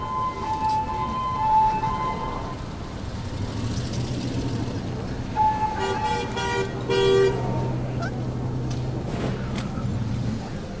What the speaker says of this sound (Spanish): Gran cantidad de móviles policiales, las sirenas que no dejan de funcionar.